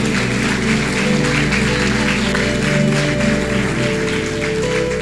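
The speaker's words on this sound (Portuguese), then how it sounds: "Quem pode aplaudir ao Espírito Santo aqui nessa noite?" A congregation applauds at an evening Portuguese-language church worship service, the clapping a dense, rain-like patter that holds steady throughout over a sustained musical backing.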